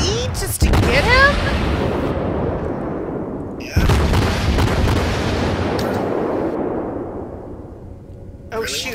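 Warship main battery guns boom in a World of Warships battle aboard the cruiser Chikuma, two heavy salvos a few seconds apart, each a sharp blast trailing into a long rumbling decay, with a brief whoosh near the end.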